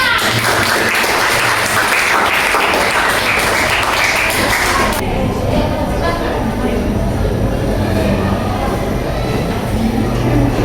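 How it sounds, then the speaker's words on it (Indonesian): Classroom applause as group 4 is called up during a teaching performance session, loud and continuous throughout, harsh and noisy, with a sharp change in texture partway through and possible voices mixed in. "Oke, kita beri tepuk tangan."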